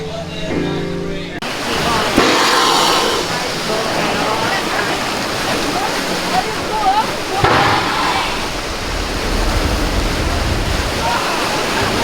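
Rushing, splashing water from the Calico River Rapids raft ride at Knott's Berry Farm, a steady broadband roar that follows a brief burst of music, with voices talking over it.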